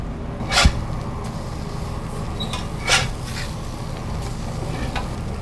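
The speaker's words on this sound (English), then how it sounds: "There's the sizzle." Steady sizzling of seasoned steaks frying in a hot buttered pan, a continuous crackling hiss with a couple of brief clattering knocks.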